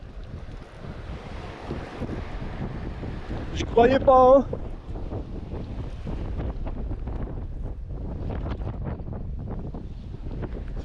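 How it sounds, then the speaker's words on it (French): Strong wind rushes across the microphone over open water while sea fishing off Tenerife in the Canary Islands, with a brief burst of speech partway through. "Ce vent de malade,"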